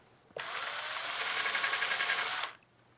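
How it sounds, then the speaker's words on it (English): A power drill bores into plywood through a bookcase-building jig in one continuous burst lasting about two seconds, close and fairly loud, starting and stopping abruptly. "line it up, and drill away"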